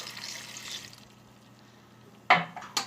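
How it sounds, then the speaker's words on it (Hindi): A cup of water is poured into a cooking pot holding onion, garlic and tomato. A brief splash and clatter come near the end, after a quieter stretch with faint hiss and hum. "और टमाटर डालेंगे और 1 कप पानी डालेंगे।"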